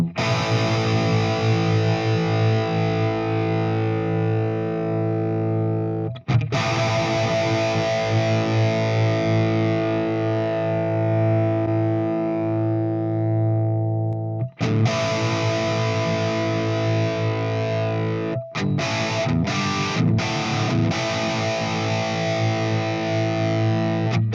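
Heavily distorted electric guitar through an EVH 5153 high-gain tube amp, chugging thick, tight riffs with brief pauses between phrases, loud and close, no voices.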